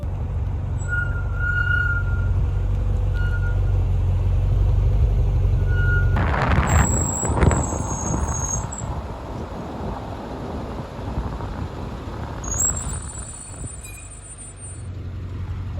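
A BMW X5M lets out high-pitched brake squeals while backing up, several tonal squeaks over a steady low rumble, loud and close with no talking.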